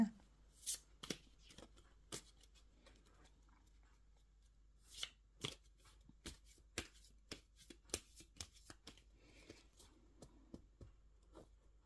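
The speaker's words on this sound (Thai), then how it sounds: "ขอเป็นตัวแทนสับไพ่ตัดไพ่ให้คนเกิดวันศุกร์นะคะ" Tarot cards are shuffled and cut by hand in a quiet room. Crisp, soft snaps and riffles come in uneven bursts, growing busier toward the end.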